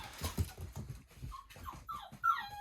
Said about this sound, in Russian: А ты что скулишь?